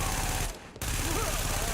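Rapid, dense gunfire from a video game firefight fills the clip almost without pause, loud and constant apart from one brief drop, with voices mixed into the din.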